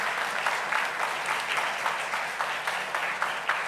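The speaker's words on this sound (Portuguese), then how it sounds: "damos uma grande salva de palmas para todos" Steady congregation applause at a Sunday Mass for parents, children and catechists, many hands clapping together in a continuous, moderately loud roll with a soft rhythmic pulse.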